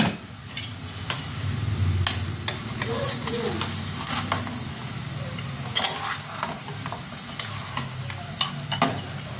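Chicken sautés and sizzles in a pot for chicken soup, a steady close frying hiss with occasional stirring clicks and scrapes, while someone talks quietly underneath.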